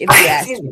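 A single sharp sneeze bursts out close by, tangled with a man's speech.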